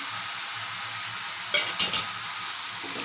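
A jackfruit curry with ground spices sizzles in hot oil under a constant hiss, broken midway by a couple of brief scraping stirs of the spoon through the pan.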